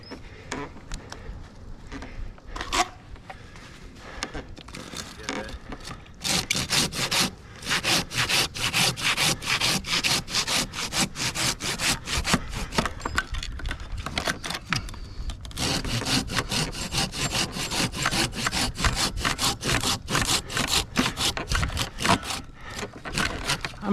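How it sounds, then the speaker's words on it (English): Handsaw cutting through wood, loud close rhythmic back-and-forth strokes that start tentatively, then run steadily for most of the stretch with a brief pause. "I might be making a big cut with my handsaw here in a minute."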